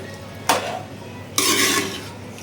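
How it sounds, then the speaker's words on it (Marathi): Vegetable pulao with fresh coriander stirred in a cooking pot, two distinct scraping strokes of a spoon against the pot, close and fairly loud, the second longer and rougher, with a low background hum and no talking. "तर इथे आपण कोथिंबीर घालणार आहोत. पुन्हा मिक्स करून घ्यायचं आहे."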